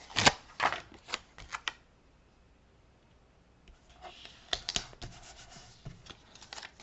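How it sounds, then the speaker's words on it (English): Paper rustles and slides as a label-bearing envelope from a craft card kit is handled up close, short crisp bursts separated by a quiet pause. "we'll take our envelope with our label"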